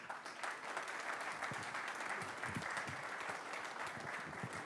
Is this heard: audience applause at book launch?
yes